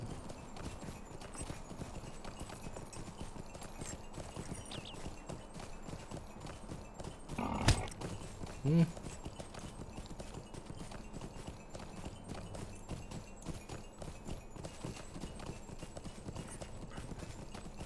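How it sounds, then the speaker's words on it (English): Horse hooves clip-clop steadily in a fantasy video game, a fast, even rhythm of close, crisp hoofbeats continuing throughout, broken briefly by a sharper knock and a short snort midway. "Is my horse going too fast for you?"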